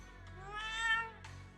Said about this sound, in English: Meow. A chubby orange cat waddles.